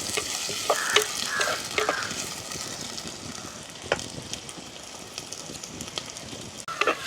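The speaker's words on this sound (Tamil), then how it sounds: "இந்த வெங்காயம் பச்சை மிளகாய் உள்ளி எல்லாம் பதம் கட்டணும் எங்களுக்கு" Onion, green chilli and garlic sautéing in a pan for a village-style dried fish curry, with steady close sizzling and frying and repeated sharp scrapes and taps of stirring throughout.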